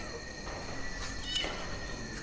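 A cat meows faintly at a distance in a quiet room inside a reportedly haunted former COVID-19 facility, a few soft calls over steady background hiss and hum, with no talking.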